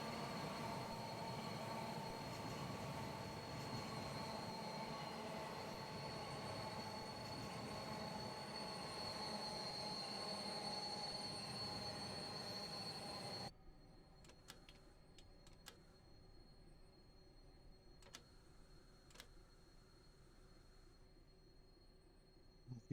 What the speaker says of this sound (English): So that's squeal of the brakes coming on now